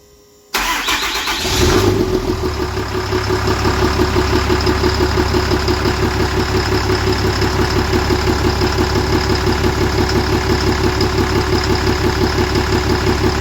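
A 6.7 Cummins diesel engine cranks and catches, then settles into a loud, steady, clattering idle with a rhythmic knock.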